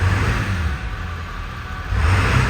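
A Ford F-350 crew cab 4x4 with a 7.3L Power Stroke diesel engine runs steadily, a loud, close, continuous low rumble that swells slightly toward the end, with no one talking.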